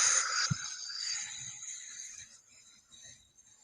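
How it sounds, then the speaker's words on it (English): A deep, slow exhale during a guided relaxation breathing exercise, a soft airy breath close to the listener that gradually fades. "Breathe out."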